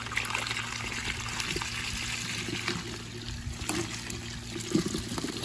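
Minnows tipped from a bucket into a backyard pond after acclimating: steady running, trickling water throughout with a sharper splash near the end, close by, no talk.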